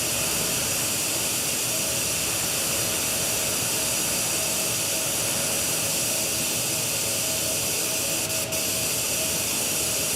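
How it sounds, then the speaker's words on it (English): A blower motor runs with a steady, loud whooshing roar and airy hiss, unchanging throughout with no talk over it. "It's a blower motor, yeah, I know this."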